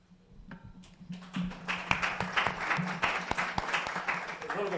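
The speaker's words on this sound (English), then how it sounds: "Round of applause." Applause breaks out at a climate change prize competition, starting from a few scattered claps and building into steady, moderately loud clapping from a seated audience.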